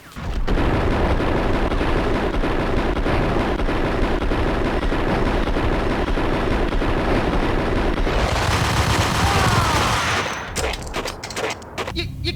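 Sustained, dense gunfire from the Max Payne video game, loud and continuous like a fusillade for about eight seconds, followed by a burst of shifting effects and scattered shots at the end.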